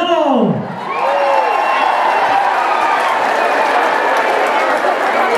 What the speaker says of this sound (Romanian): Să-l aplaudăm pe domnul Nicolae Omțeanu!